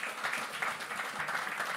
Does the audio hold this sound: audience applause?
yes